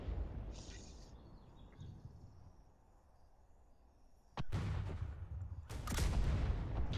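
Cannon tower firing in the online pirate game Atlas: two loud, sharp booms a second or so apart, each followed by a sustained rumbling roar, over a quieter hissing ambience.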